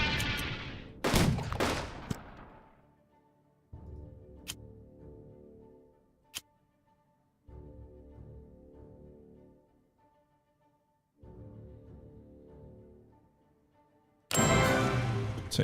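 Artillery bombards a fort in the video game Unity of Command II. Sharp, loud blasts open the sequence, followed by several quieter rumbling bursts separated by pauses and isolated clicks. A final loud volley closes it, with no speech.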